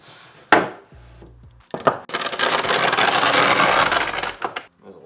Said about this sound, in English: I'm going to cut 5 pieces out of this at 19 inches just to keep it a little long